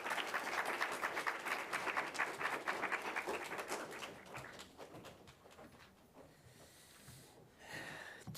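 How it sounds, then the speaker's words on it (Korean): Church congregation claps to welcome a visiting pastor at a Sunday worship service; the applause is dense but fairly faint, thins out after a few seconds, and leaves quiet room sound. "우리 목사님 나오시게 될 때 우리 박수로 우리 환영합니다"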